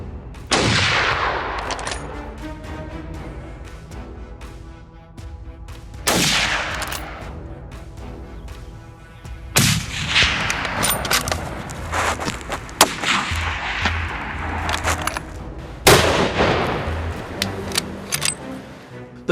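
Large caliber rifle shots from a black bear hunt ring out as about four sharp, loud blasts spaced several seconds apart, each trailing into a rumbling echo over a busy outdoor background.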